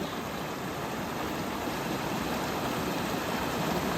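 Waterfall roaring as a constant, dense broadband rush, close and steady throughout without voices.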